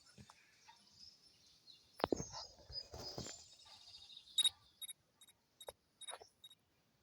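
Short, high video game bird chirps from Scary Teacher repeat in quick bursts near the end, following a few louder clicks and rustles; no one speaks.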